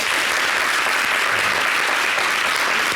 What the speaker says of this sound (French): Est-ce qu'on peut s'applaudir un peu?